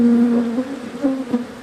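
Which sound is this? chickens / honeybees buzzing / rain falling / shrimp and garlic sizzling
honeybees buzzing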